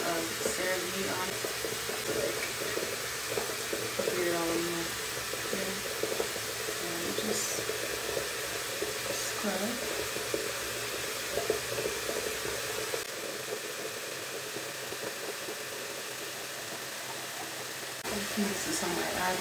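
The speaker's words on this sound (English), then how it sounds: "So I'm gonna go ahead and turn on the water." Water runs steadily from a bathroom tap during a nighttime face wash, a continuous broadband splash that briefly thins out near the end while the person moves about.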